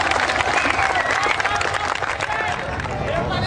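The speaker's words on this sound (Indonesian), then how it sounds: "Tepuk tangan." A crowd at a live memorial gathering with sholawat bursts into loud, dense applause that fills the space, with murmuring voices and crowd noise mixed into the clapping.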